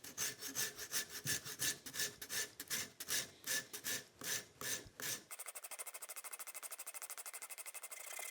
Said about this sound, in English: I went ahead and bought a rasp